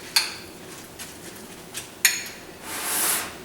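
Walnuts are quickly mixed into buttermilk pancake batter in a bowl, with a few sharp clinks of a utensil against the bowl's rim and a brief soft swish at the end, close and without talk.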